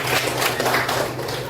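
A classroom gives a burst of applause, many hands clapping together in a dense, continuous patter close by.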